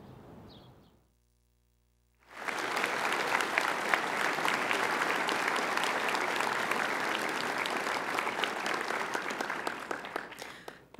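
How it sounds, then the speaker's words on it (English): Loud, sustained applause from a debate audience at a 2017 NDP leadership debate in Victoria, erupting after a brief lull and rolling on steadily as dense clapping throughout. "hold your clapping to the end"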